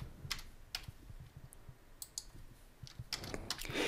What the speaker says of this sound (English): I'm going to type my username and password in.